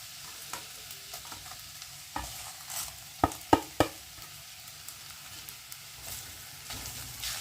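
Garam masala and ginger-garlic paste fry in a pan for a clam curry with drumstick and potato while being stirred, giving a quiet sizzle with soft scraping and a cluster of sharp spoon taps midway.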